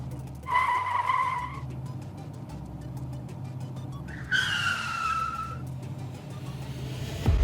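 A car braking hard on the road, with two loud tire squeals of about a second each, separated by a few seconds of steady road and engine rumble.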